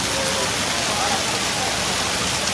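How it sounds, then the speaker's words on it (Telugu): An artificial waterfall with a fountain on Kailasagiri hill in Visakhapatnam gives a loud, steady rushing wash of falling water that never lets up, with voices blending into it. "మొత్తం వాటర్ ఫాల్స్ రెడీ చేశారు ఇక్కడ"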